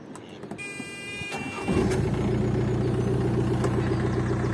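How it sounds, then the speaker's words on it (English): A modern diesel engine on a narrowboat at a lock starts up after a few clanks and settles into a steady, fairly loud idle with a low continuous rumble. "Tim fired up Mary Ell's modern engine."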